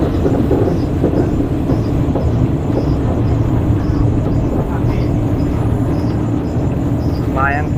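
A train slows near the Kwai River Bridge on the Death Railway at Kanchanaburi, its loud continuous low rumble and rolling clatter filling the scene, with a brief higher squeal near the end and voices faint beneath.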